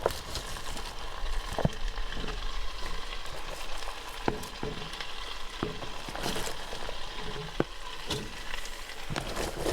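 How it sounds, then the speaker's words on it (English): Onions frying in a pot for French onion soup, a steady close sizzle broken by occasional scraping clicks of stirring throughout. "I'm going to add the onions in now"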